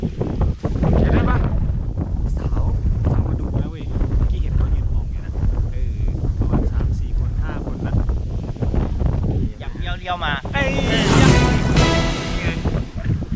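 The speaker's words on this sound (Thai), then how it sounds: "แต่ว่าลมมากนะครับลม" Strong wind blowing straight into the microphone outdoors, a loud continuous buffeting rumble throughout while someone talks over it.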